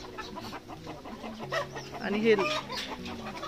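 A hen sitting in the hollow of an old fig tree trunk clucks in short, close calls, while a person speaks briefly over it.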